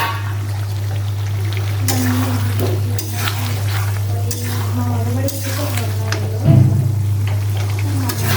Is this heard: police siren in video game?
no